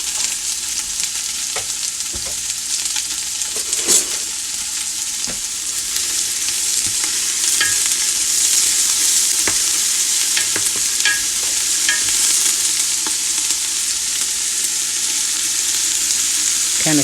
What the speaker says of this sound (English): Into this pot, we're going to put our onions and green peppers. Let's render them down just a little bit.